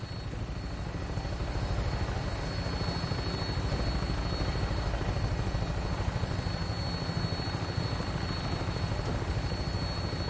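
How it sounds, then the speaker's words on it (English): Vertibird helicopter in Fallout 4 idling with rotors spooled for takeoff, a steady loud whirring rotor and engine drone that holds constant and close for the full stretch, with no voices. "Tinker's gonna keep the vertibird spooled for an immediate takeoff"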